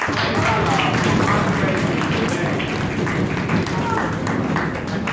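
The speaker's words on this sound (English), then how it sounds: "So let's give them a big round of applause." A debate audience gives both teams a round of applause, a dense, steady wash of clapping that holds at an even loudness, with a voice faintly audible underneath.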